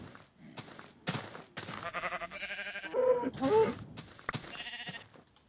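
A sheep bleats several times in a blocky survival video game, with wavering, nasal calls that rise and fall. Someone talks over and between the bleats.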